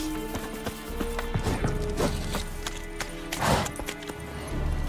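Galloping horse Roach in The Witcher 3 game, a steady drumming clip-clop of hooves with a brief whinny, close and loud over ambient game sound.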